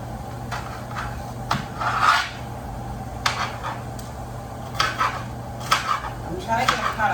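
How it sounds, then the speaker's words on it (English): Celery being chopped with a knife for vegan chili: irregular sharp, close knocks of the blade hitting the board, spaced apart, over a steady low hum. "However you cut your celery, just chop it up."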